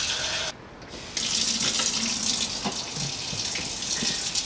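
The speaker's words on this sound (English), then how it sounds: "right now I'm getting water going" Cool water runs steadily from a tap into a sink while a yeast starter is being made, a continuous close splashing hiss that briefly stops and then resumes, with a few knocks and clinks over it.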